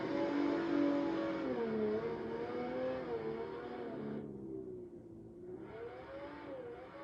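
A Toyota Corolla AE86 drifting in the Assetto Corsa racing game, its engine holding a steady wavering drone that dips and rises as it slides, with faint tire noise and no voices.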